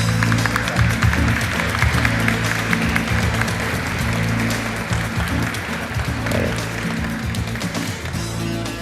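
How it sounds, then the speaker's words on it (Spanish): Sustained audience applause at a science congress session as the moderator is welcomed: a broad wash of clapping from a large hall, steady throughout, with some low hum underneath. "muchas gracias por el aplauso."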